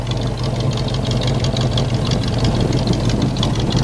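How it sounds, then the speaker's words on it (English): A 1956 Chevrolet Corvette sits idling, its engine giving a steady, loud, low rumble that holds an even level throughout without revving. "Just listen to that rumble for a second. Just let it idle."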